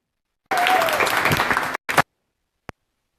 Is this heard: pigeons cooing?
no